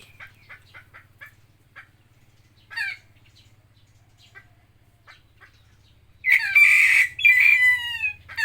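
Scattered soft chirps and clucks from a white bird, then a loud, drawn-out crow as it imitates a rooster near the end, over a low steady hum.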